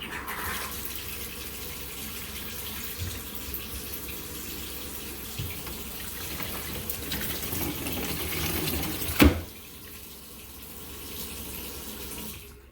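Cold water gushing from a faucet into a bucket, a strong steady rush that holds for several seconds before a brief knock and a quieter tail as the flow drops off.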